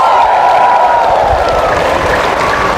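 A church audience in Batangas clapping loudly together, a dense, steady wash of applause that holds at full volume from start to finish with no talk over it.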